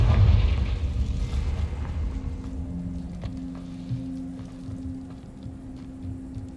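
A Confringo fire spell in Hogwarts Legacy bursts with a rushing, sizzling blast that fades into a low crackling rumble, near and moderately loud, with no talking.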